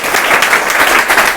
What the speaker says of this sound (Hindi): जोरदार ताली बनता है सर